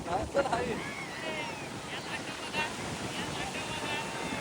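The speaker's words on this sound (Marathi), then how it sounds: "बघा ह्या लाटा" Sea waves on the Konkan coast washing and surging close by under gusty wind, with a steady roar of water and occasional voices in the background.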